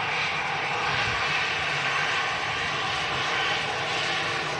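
An easyJet Airbus A320 at Manchester Airport gives a close, loud, steady jet engine roar with a bright hissing edge, sustained throughout without talk.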